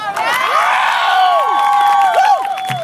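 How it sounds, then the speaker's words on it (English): An audience at a Louder Than a Bomb poetry event with Occupy Chicago cheers and whoops loudly, a dense burst of crowd voices rising and trailing off. "give him more applause"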